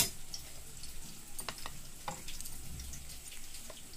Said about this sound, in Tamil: அதில் வெங்காயம் பூண்டு பச்சை மிளகாய் போட்டுக்கிட்டேன். இது கொஞ்சம் நல்லா ஃப்ரை பண்ணிக்கலாம்.